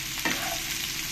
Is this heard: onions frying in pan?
yes